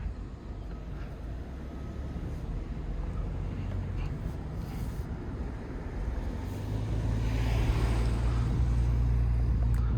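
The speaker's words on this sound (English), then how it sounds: "Perfect day for a quick test drive of this 4 Series convertible." A 2021 BMW 430i convertible with a 2-liter turbocharged four-cylinder, driving with a steady low engine and road rumble that grows slightly louder toward the end, heard from inside the car.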